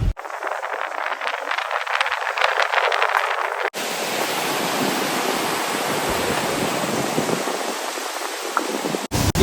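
Swollen mountain stream (nala) rushing after heavy rain near Chaafi on the Haldwani–Lohaghat road, a steady broadband roar of fast water that holds loud and continuous throughout, with no voices.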